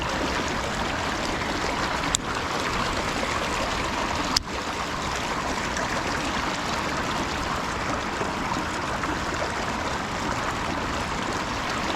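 Creek water near Fort Worth trickles and babbles steadily over rocks nearby, with two sharp clicks early on and no talking.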